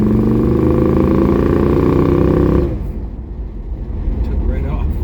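A 1965 Buick Riviera with a Carter AFB carburetor and a freshly fixed accelerator pump revs loudly and steadily nearby, then pulls away, leaving a fainter rumble.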